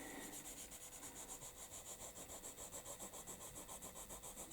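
A dark blue oil pastel scratching across paper in quick, even back-and-forth strokes, a dry rasping sound that is close but fairly quiet, with no voices.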